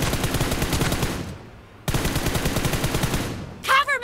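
Rapid automatic gunfire from guns in a mobile shooting game, loud and close, in two long sustained bursts split by a short gap, with a voice near the end.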